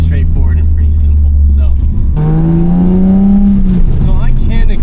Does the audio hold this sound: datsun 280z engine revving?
yes